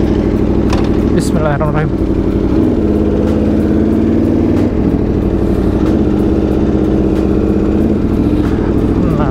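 An Aprilia RSV4 RF superbike engine runs loud and close, a steady rumbling idle after a long warm-up that rises in brief throttle blips, with someone speaking briefly over it.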